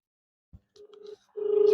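A telephone ringback tone on an outgoing call, with a short faint burst followed by a louder sustained ring tone, alone with no talk.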